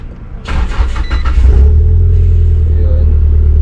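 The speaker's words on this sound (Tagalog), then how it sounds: "So start natin yung kotse para makita natin." A Nissan S13 car's engine cranks with a few quick starter pulses, then catches and settles into a loud, steady low idle close up.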